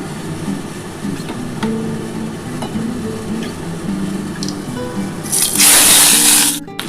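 Flat beans drop into hot oil already tempered with black cumin, bursting into a loud, bright sizzle near the end after a quieter stretch of low kitchen stirring and bubbling.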